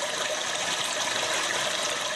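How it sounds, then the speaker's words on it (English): A Japanese Sound Princess toilet device plays a continuous recorded rush of flushing water, steady and fairly loud with no breaks, with no other sounds heard. "A device that mimics the sound of an ever-flushing toilet."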